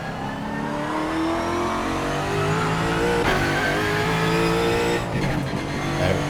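GT4 race car engine in iRacing roaring steadily as it pulls out of the pit lane at the Nürburgring Nordschleife, a loud continuous drone with rising pitch and a brief tyre squeal, no voices.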